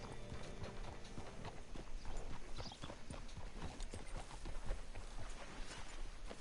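Horse hooves clip-clopping at a walk in Red Dead Redemption 2, a dense irregular patter of hoof strikes close by over a busy ambient background, with no voices.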